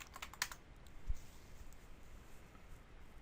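A command being typed on a computer keyboard while configuring a network interface in GNS3. A brief run of faint, close keystrokes comes at the start, then near-silence with a low room hiss.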